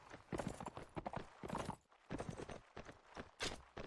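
Horses clip-clopping and galloping in a video game match, rapid hoofbeats in bursts with brief pauses, fairly loud and close, with faint background voices.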